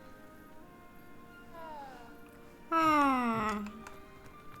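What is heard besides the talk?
cat meowing in video game Hogwarts Legacy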